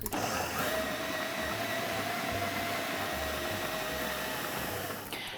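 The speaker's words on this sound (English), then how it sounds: "Now I just need to blend everything up." A steady, high-pitched motor whir from a blender grinding spices, running continuously for several seconds, close and unbroken.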